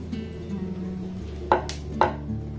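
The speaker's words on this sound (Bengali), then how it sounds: "তাই আমি এরকম একটা ঢাকনা নিয়েছি। এটাকে দিয়ে এইভাবে আমি কেটে নেব।" A metal lid pressed through potato-semolina dough to cut rounds, giving two crisp, close tapping cuts about half a second apart against a quiet kitchen background.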